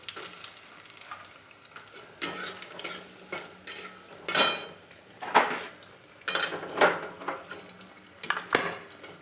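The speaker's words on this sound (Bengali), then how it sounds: "বড়িগুলো কড়াইতে তেল দিয়ে দিয়েছি। তেলের মধ্যে বড়িগুলোকে দিয়ে দেবো।" Lentil dumplings (bori) fry in oil in a wok with a steady low sizzle, broken by repeated sharp clinks and scrapes of a utensil stirring against the metal pan, close and fairly loud.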